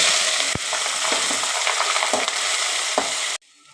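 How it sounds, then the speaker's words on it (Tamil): Chopped onions frying in oil with popped mustard seeds and chana dal make a loud, continuous sizzle with occasional spoon knocks, ending abruptly near the close. "இந்த வெங்காயமெல்லாம் நல்லா வணங்கட்டுங்க"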